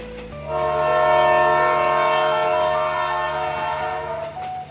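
A train horn blares loud and sustained as a locomotive approaches on a railway in a children's story, the long chord holding for several seconds with rumbling rail noise beneath it, then fading slightly at the end.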